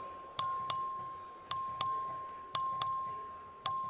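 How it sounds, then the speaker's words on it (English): Voting bell rung by the clerk in the Texas House chamber: a series of sharp, bright electronic ding chimes in irregular pairs and singles, each with a clear tone that decays slowly, set against a quiet room. "The clerk will ring the bell."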